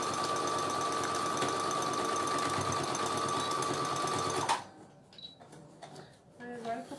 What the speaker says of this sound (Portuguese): agora que eu percebi que tá costurando rápido, eu tô costurando com um pontão